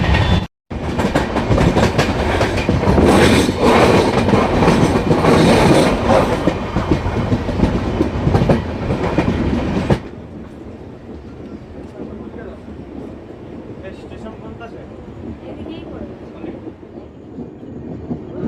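A passenger train runs on its rails on the way into Kamakhya station in India, a loud rumbling clatter with rattling that drops to a quieter steady rolling hum partway through.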